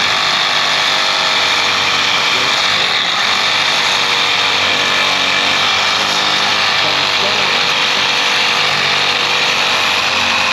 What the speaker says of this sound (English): we're just going to sawzall that thing right out of there